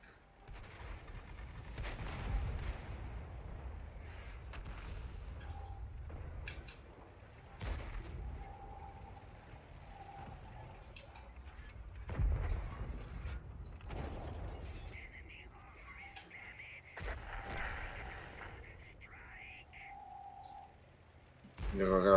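Artillery fire in a multiplayer video game lands as repeated heavy booms and blasts spread through the stretch, mixed with clicks and heard beneath players talking.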